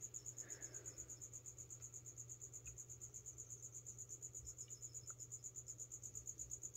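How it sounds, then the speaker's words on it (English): Crickets chirp steadily and rapidly inside a gecko enclosure, a continuous, evenly pulsed high trill that runs softly throughout without any voices. "Of course, all the crickets are in there."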